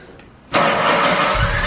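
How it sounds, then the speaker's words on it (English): A Mitsubishi car engine cranks and catches about half a second in, then settles into a loud, steady, rough-sounding run close to the listener, with no talk. "All right, start her up."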